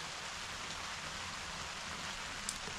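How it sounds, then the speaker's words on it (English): Rain drums steadily on a polytunnel on a homestead in central Portugal, a soft even hiss of drops on plastic with one small sharper tap near the end. "We're waiting here for the rain to stop or to be a little bit less, like a drizzle."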